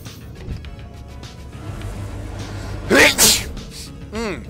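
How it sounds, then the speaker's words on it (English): A person sneezes sharply twice in quick succession close to the microphone, loud bursts over a low background drone, followed by a short voiced sound. "I'm trying not to sneeze in your guys' ear, but it happens just so freaking quickly"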